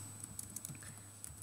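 Brief, quiet burst of keystrokes on a computer keyboard, a few light irregular clicks alone with no talking.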